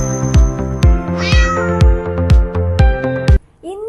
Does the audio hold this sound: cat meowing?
yes